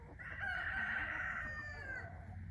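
A farm rooster crows once in a long, loud, drawn-out cock-a-doodle-doo lasting about two seconds, close by, with a faint low rumble of background noise and no talking.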